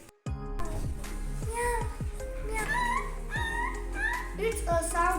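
A young schoolchild imitates a puppy's whimper with a run of high, wavering whines and yips, close and loud, with a harmonic voice quality throughout.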